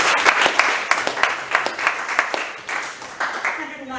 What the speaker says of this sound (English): I think that in itself deserves a bit of a round of applause.